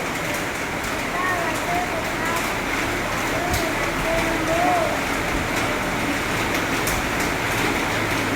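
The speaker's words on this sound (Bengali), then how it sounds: "এই সময় বৃষ্টি শুরু হয়েছে" Rain begins falling outdoors near a school, making a steady broadband hiss throughout with faint voices in the background.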